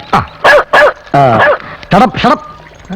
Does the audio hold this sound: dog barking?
yes